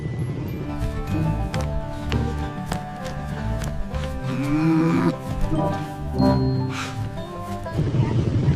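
A toy cow gives a loud, drawn-out electronic moo, with a steady hum and some background noise, and no one talks over it.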